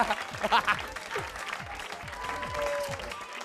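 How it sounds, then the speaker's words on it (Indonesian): Studio audience applause on an Indonesian TV comedy variety show, moderate clapping that is somewhat distant and runs under ongoing talk and background music. "Tepuk tangan dong buat Olga Maluna ya"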